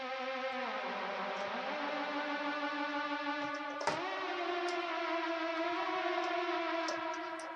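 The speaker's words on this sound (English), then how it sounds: "This is a hard lead. It's called Airbender." A synth hard lead preset named Airbender plays a sustained, buzzy, harmonic-rich tone that glides up in pitch, then holds and bends again with a brief accent in the middle, heard alone with no voices.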